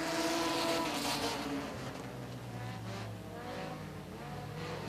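Race cars accelerate together at the green flag of a Hot Shots qualifier at Talladega Short Track, a loud, dense engine roar holding steady with rising and overlapping engine tones throughout.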